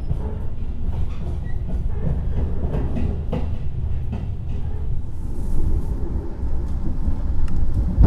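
Close-up rumble of the Argo Bromo Anggrek passenger train rolling along the rails near Semarang, Indonesia, a continuous low roar with rhythmic clacks and occasional squeals, heard from onboard.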